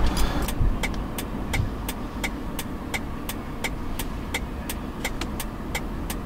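A car drives along a road with steady engine and road rumble throughout, regular faint ticking like a turn signal layered on top, moderately loud and close, with no voices.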